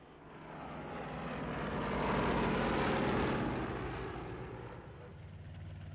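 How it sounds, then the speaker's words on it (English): A propeller aircraft engine in the combat flight sim IL-2 1946, pushed to its limits, drones loud and steady and swells to a peak midway before easing slightly, with no talk over it. "we really pushed our engine to its limits"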